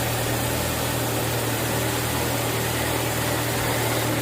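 A Ford Escape engine idling steadily after a long crank, a constant close mid-pitched hum with broad noisy rumble and no speech over it.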